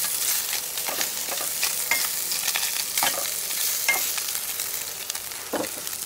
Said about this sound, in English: So I can get a nice sear on the Spam.